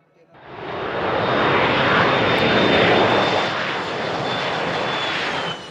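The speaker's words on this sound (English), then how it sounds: "The World Cup trophy arrived from Bangladesh in a chartered plane to Bhutan" A chartered airplane flying in from Bangladesh to Bhutan, its engines swelling into a loud, steady broadband roar that holds for several seconds with a thin high whine above it.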